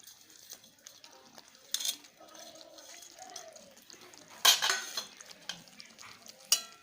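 Fried paneer is stirred into cooked spinach for palak paneer, a spoon scraping and clinking against the pan in a few sharp bursts between quieter, soft stirring.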